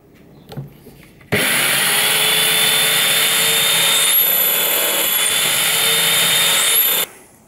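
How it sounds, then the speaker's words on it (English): A small old Black & Decker drill press starts up with a sharp onset and drills into a wooden block, a loud steady motor whine with a high tonal component running for about six seconds before cutting off. "gone and stolen my grandpa's little drill press and I'm going to give that a whirl"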